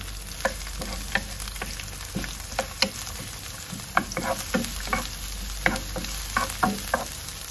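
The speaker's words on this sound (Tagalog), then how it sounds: "Then isunod ko na rin yung sibuyas. Gisa-gisa lang tayo" Garlic and onion sauté in a hot pan, a steady sizzle broken by a run of sharp scraping and stirring clinks from a utensil, close and moderately loud with no voices.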